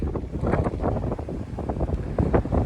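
Strong wind buffets the microphone outside a Jeep WK2 Trailhawk, a loud continuous rumbling roar with gusty surges and no speech.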